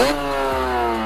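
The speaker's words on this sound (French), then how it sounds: "quand vous cabrez en première, le moteur il va être à fond dans les tours" A 50cc moped engine screams near the top of its revs in first gear during a wheelie, a loud, sustained buzzing drone with a slight shift in pitch partway through.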